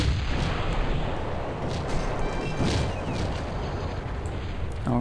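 Cannons firing in the real-time strategy game Cossacks during a Caribbean naval battle, a dense barrage of booming artillery blasts and crackling gunfire rolling continuously at close range.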